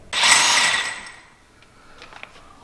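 A power tool removes a 7/8 bolt on a Can-Am X3 side-by-side during a clutch kit install, giving one short loud whirring burst that fades, followed by faint clicks.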